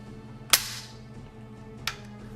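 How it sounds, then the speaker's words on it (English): An AK-74 hunting rifle action being cycled: one sharp metallic clack followed about a second later by a lighter second click, close and alone. "Cycle the gun."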